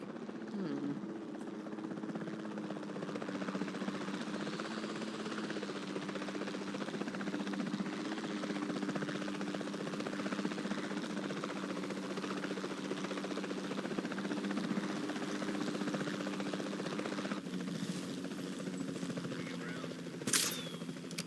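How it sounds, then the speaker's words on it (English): A capture team helicopter in Jurassic World Evolution 2, a steady low rotor drone holding evenly throughout with a faint game ambience, no clear talk over it. "Then the sensible thing is to take a capture team helicopter"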